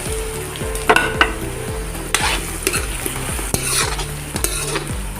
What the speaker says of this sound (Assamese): আলুখিনি অলপ সময় ফ্ৰাই কৰি ল'ম